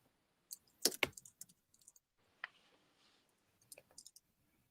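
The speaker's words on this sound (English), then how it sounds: "while you're typing" Light clicking of a computer keyboard during an online call, a few scattered taps and a short cluster of quicker keystrokes, faint and close with quiet gaps between.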